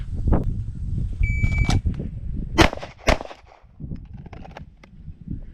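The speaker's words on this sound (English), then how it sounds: "we're going to be firing the rounds not from support hand only, but from strong hand only in 5 seconds" Handgun fired strong hand only during a law enforcement qualification course at a range, a few sharp cracks spaced irregularly over a dull background rumble, with several other sharp impacts nearby.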